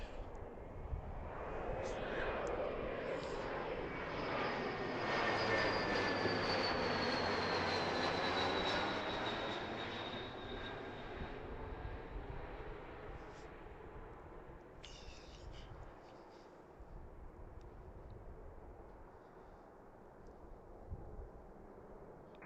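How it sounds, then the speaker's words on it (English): An Embraer E175 regional jet on a Delta Connection flight from Boston roars loudly overhead, its engine noise swelling with a rising whine before slowly fading into distant rumble and wind. "This looks like the Delta Connection from Boston. E175."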